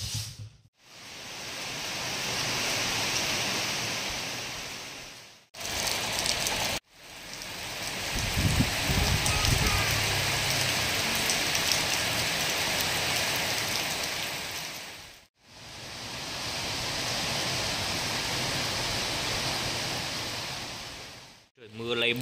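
Steady rain hiss fills the scene, a broad wash of falling rain interrupted by a few brief silent cuts, with some faint low rumbling partway through.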